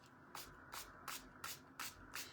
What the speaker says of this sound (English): So I'm just going to spray it with water